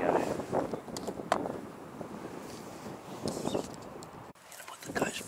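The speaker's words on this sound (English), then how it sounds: "it's a bit windy today" Gusty wind buffeting the microphone outdoors during a driven fox hunt with beagles in Victoria, a steady rushing roar with stronger gusts, no clear talk.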